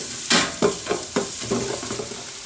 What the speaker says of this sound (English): Add your garlic. Cook this for another minute.